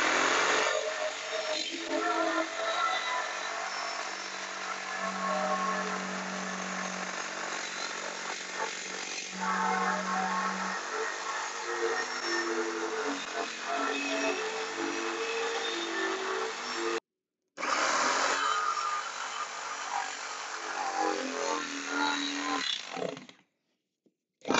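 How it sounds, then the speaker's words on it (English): A jigsaw whines steadily as it cuts wood, running almost continuously with a short pause before resuming, then stopping. "See the link for how to use a jigsaw."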